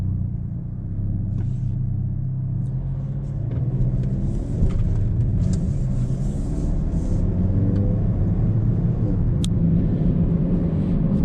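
Hyundai i30 N hatchback cruising in normal mode, a steady low engine and road rumble from inside the cabin, loud and constant with a slight rise in pitch partway through.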